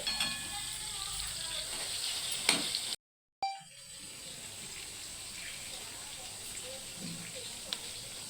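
Chicken pieces, gizzards and vegetables sizzle steadily in a hot pan, a continuous frying hiss with a brief gap and occasional stirring clinks, no talking over it.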